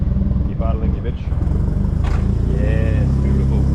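A car engine runs steadily at a low idle, a constant rumble with a voice talking over it near the start.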